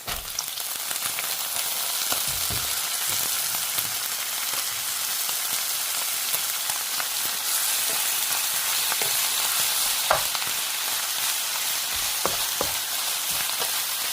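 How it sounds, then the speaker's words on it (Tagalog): Seaweed goes into a pot of boiling meat for miyeokguk, a steady close sizzle and bubbling hiss with scattered small pops and clinks throughout, no voices. "Ilagay na natin ang seaweed"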